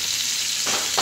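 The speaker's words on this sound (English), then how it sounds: "My oil tester is garlic, right, sizzling" Loud, close sizzling of garlic frying in hot oil, a steady hiss with a couple of brief flares of crackle.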